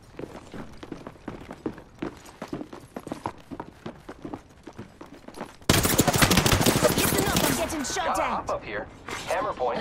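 Rapid gunfire in the Apex Legends battle royale game, sparse shots and footstep-like taps giving way to a loud, dense burst of continuous automatic fire in the second half, with a voice speaking through it.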